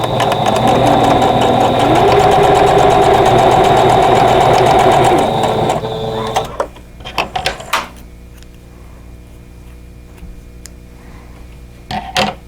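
A sewing machine sews quilt block pieces with a fast, steady, close mechanical whir for about six seconds. It then stops, leaving a few soft handling knocks and clicks.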